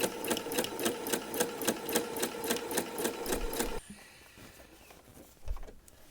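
A sewing machine runs in a steady, rapid rhythmic stitching burst while testing its top thread tension, then stops abruptly, leaving faint handling noises and a soft thump.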